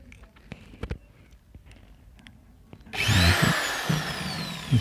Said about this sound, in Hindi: ये ड्रिल से छेद करेंगे